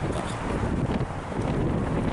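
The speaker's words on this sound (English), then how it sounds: "it is very windy today" Strong wind buffets the microphone outdoors at a convention, a constant loud roaring rumble that fills the whole clip.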